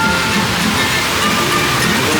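Waterfall tumbling over rockwork at the log flume in the Austria-themed area of Europa Park, a steady, close, full-bodied rush of splashing water with no break across the stretch.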